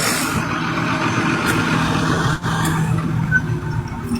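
Two trucks pass close by on a road, a loud continuous engine rumble and tyre noise with a brief dip as one goes past, heavy traffic din throughout.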